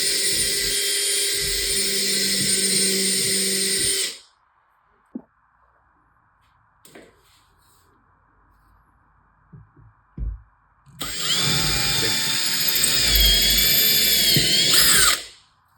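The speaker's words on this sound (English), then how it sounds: "I want to use a 7/64 drill bit, and I'm just going to drill right where I made these holes" A power drill with a 7/64 bit whines loudly for about four seconds while drilling pilot holes for a shelf, falls quiet with a few small clicks and knocks, then drills again for another four seconds.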